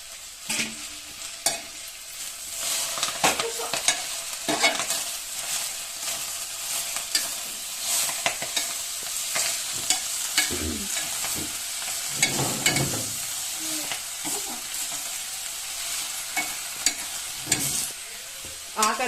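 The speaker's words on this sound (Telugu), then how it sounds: "ఆకనేది మంచిగా ఆయిల్లో మగ్గాలి ఫ్రెండ్స్, ఎందుకంటే మంచిగా డీప్ ఫ్రై కావాలి" Cleaned chickpea (Bengal gram) leaves deep fry in hot oil, giving a steady close crackling sizzle broken by repeated stirring scrapes.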